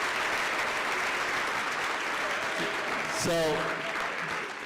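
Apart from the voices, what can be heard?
audience applause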